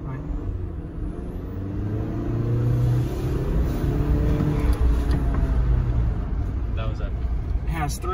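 A car with 20-inch tires and over 300 horsepower rumbles along with a low, building engine drone that swells and holds, loud and close, as if accelerating down the road.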